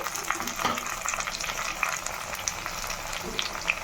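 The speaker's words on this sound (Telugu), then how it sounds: "ఈ విధంగా మంచిగా వేగిన తర్వాత ఇందులో ఒక రెండు టమాటాస్ వేస్తున్నా మంచి గ్రేవీ కొరకు" Tomatoes added to fried masala in a pan bring a continuous close sizzle with scattered pops and crackles, steady throughout with light stirring.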